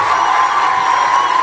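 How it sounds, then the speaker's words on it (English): Crowd at an expo event cheers and whoops for the MCs, a dense, loud, continuous wash of voices and clapping with no single sound standing out. "Let's give them a round of applause as well."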